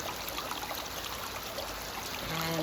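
A shallow brook in Maine flows downstream toward the Kennebec River, giving a steady, close rushing and trickling of water that stays even throughout with no voices.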